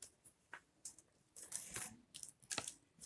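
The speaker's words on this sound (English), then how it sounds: "Let me cut the string off of this." Thin string on a homemade Easter wreath being snipped and torn loose: a quick series of faint crisp snips and rustles, close by and alone with no talk.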